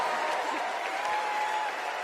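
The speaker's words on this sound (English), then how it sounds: "Here comes a big crowd, bro." A large crowd at a political rally applauds, a dense, steady wash of clapping that holds at an even level throughout.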